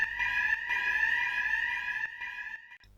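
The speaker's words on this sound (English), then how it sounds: "The emergency alarms are tested weekly, however, they will only sound for a short duration" A site emergency alarm sounds during a weekly test: a loud, steady electronic tone with a ringing overtone that holds continuously, briefly dips twice, and cuts off near the end.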